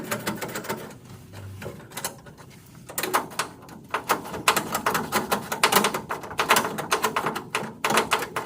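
Bolts being removed from a brace on a 1972 Camaro. Rapid irregular clicking and ratcheting taps come close up in quick bursts, starting sparse and then turning dense and steady.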